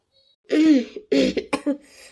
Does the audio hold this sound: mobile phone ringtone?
no